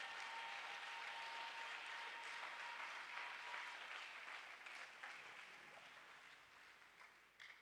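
Church congregation applauding and cheering for God during a worship service, a steady wash of clapping and crowd noise heard from a distance that slowly tapers off.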